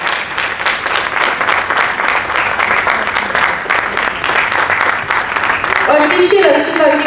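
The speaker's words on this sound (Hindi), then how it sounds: "तालियां बजती रहनी चाहिए।" A theatre audience applauds at the curtain call of a Hindi stage play at a drama festival, with sustained, even clapping throughout. A voice starts speaking over it near the end.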